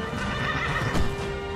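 A horse in the video game Skyrim gives a clear whinny, with a soft clip-clop of hooves around it, close and loud with no talking over it.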